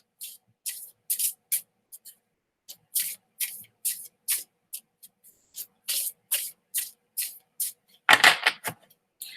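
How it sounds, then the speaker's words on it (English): Rapid bursts of cards riffling and snapping, repeated in short rhythmic runs, close and crisp, ending in a longer, denser shuffle. "likes the sound of card shuffling"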